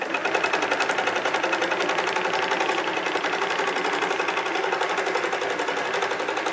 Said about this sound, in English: So now I can tap on sew, and so it's going to move over here to the left, and this is where it's going to start sewing.